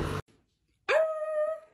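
A big dog lets out a drawn-out, high whimpering whine, close and fairly loud, after a short burst of other noise and a brief silence.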